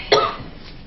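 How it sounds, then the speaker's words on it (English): A single short cough from a patient partway through a head-to-toe physical exam, close and abrupt, fading into quiet room tone. "Now since you're coughing"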